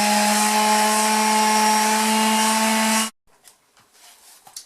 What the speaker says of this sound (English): I'm going to sand for a little bit, and then I'm going to check what I have accomplished with the sander.